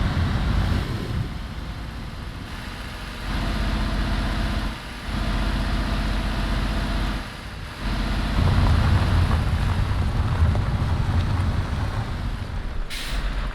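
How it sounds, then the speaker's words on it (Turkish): A Scania heavy truck engine in Euro Truck Simulator 2 rumbles continuously with a low, droning roar. The level dips briefly a few times, then swells louder toward the end. "Biraz motor sesini duyacağız"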